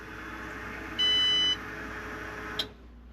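A vehicle's ignition chime sounds once when the key is turned on, a steady electronic beep lasting about half a second over a low background hum, followed later by a brief click.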